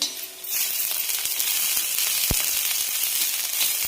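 Onion, ginger pieces and garlic cloves sautéing in a pan for a Marathwada-style curry, a steady soft sizzle with a few faint scrapes and clicks from stirring, no talking.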